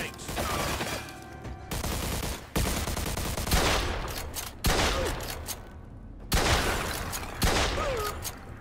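Rapid bursts of gunfire in the Mafia 2 video game, several loud volleys and single shots crackling over a steady background of game ambience, with short gaps between the bursts.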